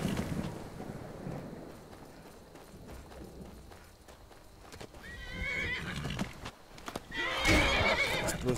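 Cartoon horse gives a loud whinny near the end, after stretches of clip-clopping hooves and rushing wind-like noise; no one speaks.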